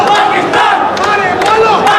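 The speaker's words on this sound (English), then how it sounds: "Not as large a crowd as we saw yesterday, but still they're making their presence felt." A cricket stadium crowd at a Pakistan vs UAE T20 match keeps up a loud, continuous roar of shouting and cheering from start to finish, with no clear speech.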